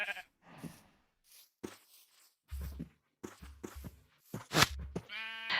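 Sheep bleating in the Minecraft video game, several short separate bleats and soft footstep-like sounds between quiet gaps, ending on a longer wavering bleat.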